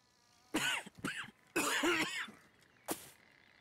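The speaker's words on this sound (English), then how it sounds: "He's got something wrong with him because he keeps coughing" Arthur Morgan coughing in the Red Dead Redemption video game: several harsh, throaty coughs in close succession, then a pause and one final cough, near and loud with no talk over them.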